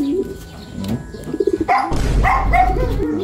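Pigeons coo close by, soft throaty calls with a rustling flutter partway through and low background rumble.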